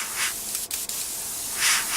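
A steady hiss of spray paint running continuously, with two brief breaks partway through and a slight swell toward the end, while painting a 1/48 scale Tamiya Supermarine Spitfire Mk.I model.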